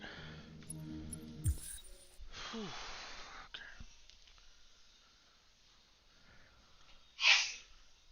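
A single sharp sneeze bursts out near the end, loud and close, after quieter rustling and breathy sounds.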